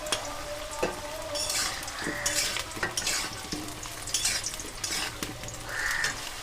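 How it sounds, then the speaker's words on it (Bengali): Cut potatoes fry in hot oil with a constant loud sizzle, broken by occasional stirring clatter. Crows caw in the background. "তেল খুব ভালো করে গরম হয়ে গেছে এবার আমি কেটে রাখা আলুগুলো প্রথমে ভেজে তুলে নেব"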